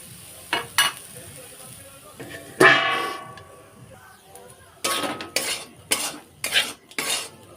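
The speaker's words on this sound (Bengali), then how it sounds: "এগুলো সব একসাথে ভালো করে ভেজে নেব" Vegetables frying in a pan for sago khichuri, with a metal spoon scraping and stirring in short bursts against the pan and a soft sizzle beneath; clattering strokes arrive irregularly, louder toward the end.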